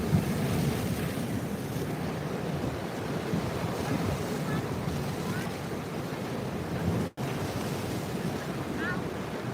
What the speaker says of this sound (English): Look at these rolling waves.